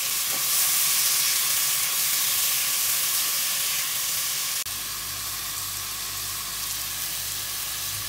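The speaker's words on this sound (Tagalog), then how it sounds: "Sa paggigisa ko, naglagay na rin ako ng patis." Garlic, onion and tomato sautéing with fish sauce in a pan, a loud continuous close sizzle with a hissing wash that drops slightly in intensity partway through, then carries on steadily.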